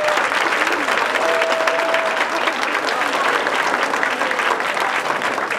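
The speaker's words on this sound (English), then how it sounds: "So would you please give her a big round of applause." Loud, dense applause from an audience at a school lemonade event, steady sustained clapping filling the whole stretch without a break.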